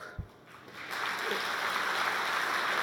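A conference audience breaks into sustained applause at closing remarks, building after a brief thump and holding as a dense, even wash of clapping from many hands.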